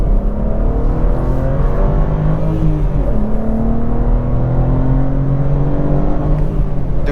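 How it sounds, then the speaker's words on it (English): A 2021 BMW M4 sports car accelerates up a highway on-ramp, heard from inside the cabin as a loud, continuous engine roar with rising and falling pitch as it pulls through the gears. "You hear a lot of noise in the engine, but not in a bad way."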